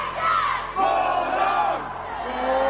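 Fans at a University of Georgia gymnastics meet shout a long, loud group cheer of the team nickname, a crowd of voices bellowing together in two sustained waves in a big arena.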